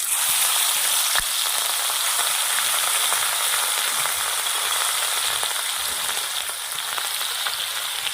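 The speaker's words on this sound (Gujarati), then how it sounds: "મરચાં તલના તેલના અંદર તરફ ફેંકી નાખવાના છે" Onion, garlic and chilies sizzle steadily in hot sesame oil seasoned with mustard seeds, cumin and asafoetida, a loud continuous frying hiss with occasional pops and stirring clicks throughout.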